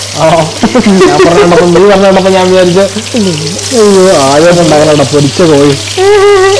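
Chicken sizzles and crackles steadily as it fries in oil in a pan while a person talks loudly over it throughout.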